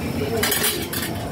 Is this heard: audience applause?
no